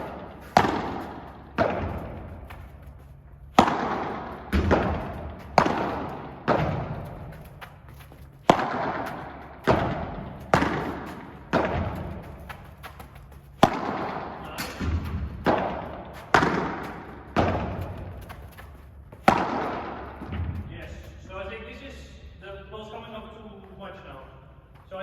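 Padel balls struck in a steady rally of sharp, loud thumps roughly every second, volleys and a Vibora overhead shot, ending with a short burst of voices as play stops.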